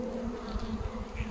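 Honeybees at an open beehive make a dense, close buzzing drone that holds steady with no pauses, and a few individual bees whine above it.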